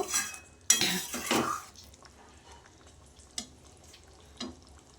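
A metal cooking pot of fish-roe curry with potato and pointed gourd is lifted off the stove: a loud clatter and scrape, then a few faint clinks and taps against a quiet kitchen background.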